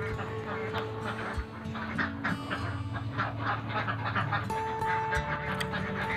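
Egg-laying ducks on a duck farm quack in a continuous, overlapping chorus, many birds calling at moderate distance over a steady background hum.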